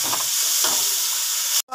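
Onions and tomatoes fry in a pan for a Bengali pangas fish kalia, giving a loud, close, continuous sizzle and hiss that cuts off abruptly just before the end.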